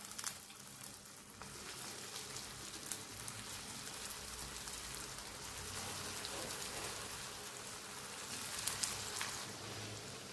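Raw banana cutlets shallow frying in hot oil in a pan, giving a steady, dense crackling sizzle that runs evenly throughout with no voices.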